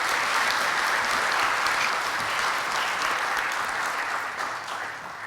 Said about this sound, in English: A round of applause to Zaid Ali Khan, please.